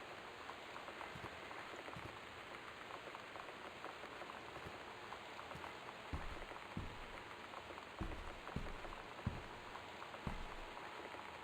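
Steady rain pours without letup in the video game Gone Home, heard from indoors as a constant dense patter, with a few soft low thumps scattered through and no talking.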